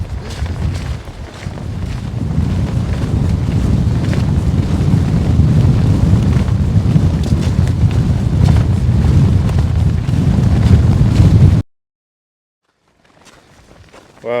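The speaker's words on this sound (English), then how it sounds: "That wind is brutal." Strong wind roars across an exposed Scottish mountain summit, a loud, constant buffeting rumble of gusts on the microphone for about eleven seconds, then cutting out abruptly to near silence before faint noise returns.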